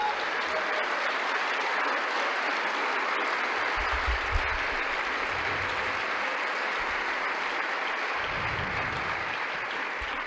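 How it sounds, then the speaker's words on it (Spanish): A church congregation applauds for the Lord with sustained, even clapping throughout, a broad dense roar of many hands with a few low thumps beneath. "Démosle un aplauso al Señor."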